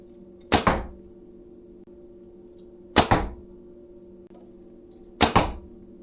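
A fiberglass horse bow shoots arrows, each release giving a sharp string smack. Three evenly spaced cracks roughly two and a half seconds apart stand over a low steady background hum, close and loud.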